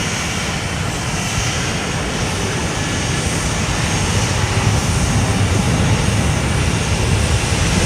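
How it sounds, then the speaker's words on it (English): A loud, steady roar of a Boeing 737-700 airliner's engines taking off fills the whole stretch, broadband and constant, growing slightly stronger toward the end. "right now we have Southwest Flight 1173 taking off on 10 left for Austin, Texas. Boeing 737-700"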